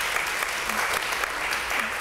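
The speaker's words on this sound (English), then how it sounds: "the panel and Laura and everybody involved should have a round of applause for today" A crowd at a legislative briefing applauds the panel, a loud, even wash of clapping that holds steady through the short stretch.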